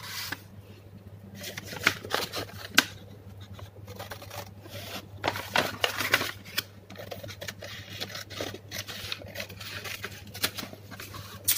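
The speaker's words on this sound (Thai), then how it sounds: "เราใช้กรรไกรตัดค่ะ" Scissors snipping a strip of craft paper about 30 cm long for a small paper rose bouquet, with irregular close rustling and crisp cuts in a quiet room.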